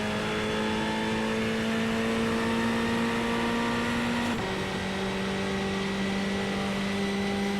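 A Ferrari GT3 Challenge race car engine runs at full throttle on the track at Virginia International Raceway, a loud, steady high-revving whine that climbs and then shifts pitch with an upshift around the midpoint, with no talking.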